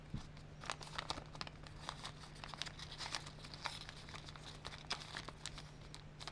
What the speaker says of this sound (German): Das heißt, einfach nach hinten falten.